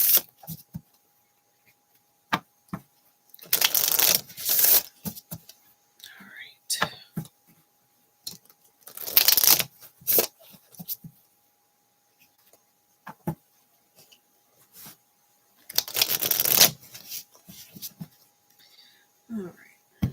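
A deck of cards is shuffled during a card reading, with three bursts of crisp riffling separated by quiet stretches and soft, whispered talk.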